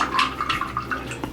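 Makeup brushes rinsed under running well water, bristles held pointing down; a steady splashing trickle with brief gurgles and spatters, close and moderately loud, no voices.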